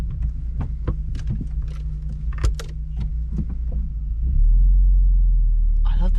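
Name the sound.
Volkswagen Golf mk4 Cabriolet 2.0 engine running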